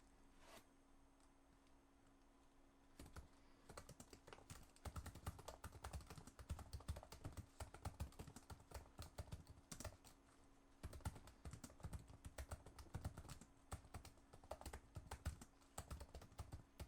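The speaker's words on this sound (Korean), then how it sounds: "간단히 타건음을 들어보도록 하겠습니다" Typing on the keyboard of a Razer Blade 15 Base gaming laptop, a steady run of quick, light key clicks with an occasional heavier tap, close and alone for most of the stretch after a brief quiet start.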